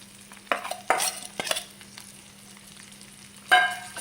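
Dried mullan fish frying in a pan with chilli and crushed garlic, a steady low sizzle broken by several loud stirring scrapes and bursts near the start and one more at the end, no voices.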